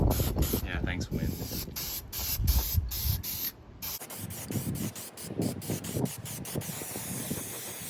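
Spray painting Dana 60 axle parts outdoors in gusty wind, with a steady aerosol hiss broken by short repeated bursts, close by, and wind noise underneath.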